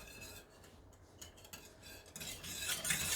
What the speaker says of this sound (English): Rian, would you like to stir?